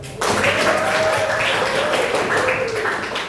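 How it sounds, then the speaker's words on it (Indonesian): Applause from an audience at a training session, starting abruptly and holding a dense, even clatter of many hands, with a faint voice-like tone running underneath. "Tepuk tangan terus."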